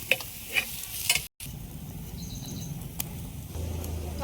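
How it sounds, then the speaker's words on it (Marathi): Brinjal bharit, a mashed eggplant dish, is stirred and sautéed in hot oil in a pan, with close scraping strokes of a spoon over a steady, soft sizzle. "आता परतून घेऊ मस्त"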